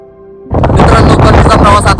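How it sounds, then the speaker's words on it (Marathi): Heavy rain falls at Kalsubai peak, Maharashtra's highest summit, near a hilltop temple in cloudy weather: after a brief quiet moment a loud, dense, steady hiss of rain and wind bursts in and fills the rest. "आता पाऊस पण खूप चालू झालेला आहे इथे"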